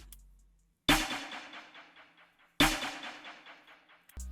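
A trap-style snare drenched in delay and reverb, struck twice about 1.7 seconds apart, each hit followed by a long, fading trail of rhythmic echoes that ring out alone before the next strike.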